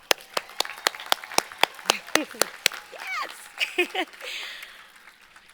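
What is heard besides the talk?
commencement audience applause for mothers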